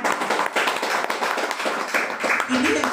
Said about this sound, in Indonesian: Subhanallah, tepuk tangan dong